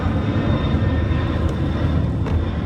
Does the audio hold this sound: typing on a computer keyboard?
no